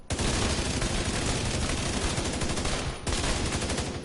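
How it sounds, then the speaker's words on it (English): Sustained automatic gunfire rattles nonstop in The Division 2 video game, a dense, loud, close stream of rapid shots with one brief break near the end before firing resumes. "I'm just gonna keep shooting."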